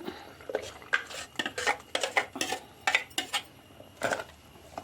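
Ground coconut paste for an Onam moru curry is stirred in a cooking pot, heard as a close run of quick metal spoon clinks and scrapes against the pot in an irregular rhythm, alone.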